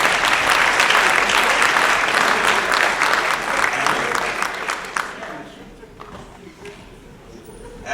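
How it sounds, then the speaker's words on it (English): Audience applauding young football players at a 7-on-7 gridiron event, a dense, steady burst of many hands clapping that fades after about five seconds into scattered claps, with crowd voices mixed in. "Please give these young men a big round of applause."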